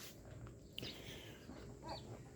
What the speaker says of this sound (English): Ducks and chickens in one coop.